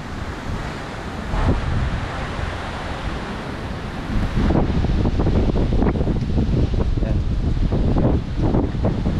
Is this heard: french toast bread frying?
no